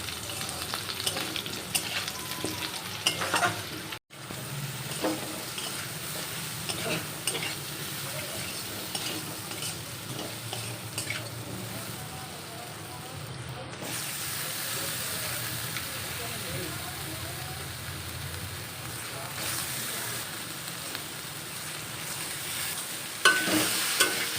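Soybean chunks fry in a pan, a steady low sizzle with occasional scraping stirs throughout, quiet and continuous with a brief clatter early on.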